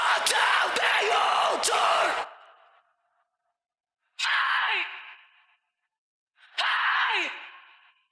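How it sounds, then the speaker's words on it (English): A live concert crowd cheers on an isolated vocal track: about two seconds of broad roaring noise, then a fading tail, then silence broken by two shorter shouted bursts that each trail off. "Of course, we start off with the crowd."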